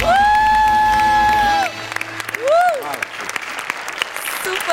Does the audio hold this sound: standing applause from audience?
yes